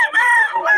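A rooster crows once, loud and close, in a short drawn-out call at a poultry sale.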